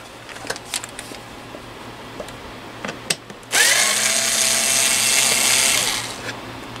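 Power drill backing out screws, preceded by a few light taps and handling clicks, then a close steady whine that runs for about three seconds and tapers off, with no voices.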